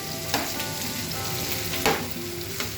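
Mixed vegetables lightly frying in a pan for sabzi, giving a close, even sizzle with a couple of brief stirring scrapes, no voices.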